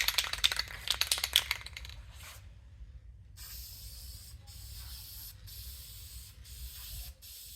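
A spray paint can rattles briefly, then hisses in steady, close bursts with short pauses as paint is sprayed onto parts of a GMC 305 V6 engine.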